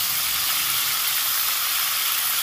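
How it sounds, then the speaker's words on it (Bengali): Peanuts frying in a pan over a medium gas flame give a steady, even hiss and sizzle that stays constant throughout, close and moderately loud with no voices. "বাদামটাকে একটু ভেজে নেব প্রথমে।"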